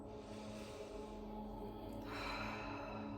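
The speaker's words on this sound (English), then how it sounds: "taking a nice deep letting go breath" A slow, deep exhaling breath released during a guided relaxation, soft and close with a gentle rush of air that brightens toward the end, no talking.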